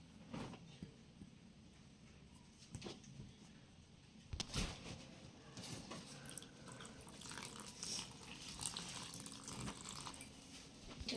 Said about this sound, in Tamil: தண்ணி ஊற்றி இதை நல்லா நான் வந்து இப்போ தோசை மாவு பார்த்துக்கு நல்லா கரைச்சிக்கலாம்